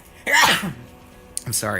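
One sharp sneeze bursts out during a gaming-match stream, and a brief spoken apology follows it.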